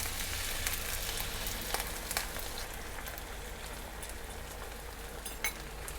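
Mandu pancake batter sizzling in an oiled frying pan, a steady, dense crackle of frying heard close up, with a few small pops and no talking.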